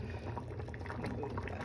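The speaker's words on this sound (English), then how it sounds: "Okay, so I'm gonna pour some coffee for Ledie." Coffee poured from a pot into a cup, a steady close liquid stream trickling and splashing briefly with no talking over it.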